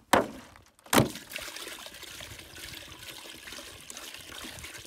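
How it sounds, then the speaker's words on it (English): Water poured into a container holding submerged tannerite, starting with two sharp splashing thuds, then settling into a steady, moderately loud trickle and slosh that continues to the end. "We're gonna add some more water to it though."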